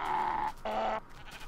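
Two close, loud bleats from a Minecraft sheep, the second brighter and more nasal, following each other with a brief gap and then fading into quiet game ambience.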